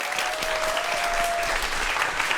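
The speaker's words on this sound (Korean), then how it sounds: "오늘의 주인공 두 분 박수로 환영해 주시기 바랍니다" A studio audience claps steadily to welcome two guests, forensic science researchers, onto a Korean science talk show; brief, moderately loud applause.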